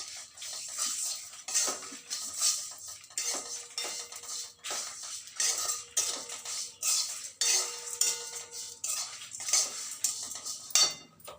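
Grated coconut being roasted in a pan, heard as a run of repeated metallic scrapes and clinks of a utensil stirring against the pan, close and irregular, with short pauses between strokes.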